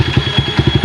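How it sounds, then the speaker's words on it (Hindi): A Jawa Classic motorcycle exhaust putters loudly at idle, a fast, uneven thumping beat of low pulses close by. "और सेकंड एग्जॉस्ट की साउंड सुना रहे हैं बाइक"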